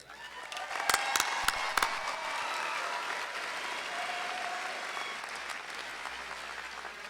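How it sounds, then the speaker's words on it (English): Audience applause at a high school graduation ceremony for the principal, a sustained wash of clapping from a large crowd with a few sharp louder claps near the start, steady and moderately distant throughout. "I think it's only appropriate we give him a hand of applause"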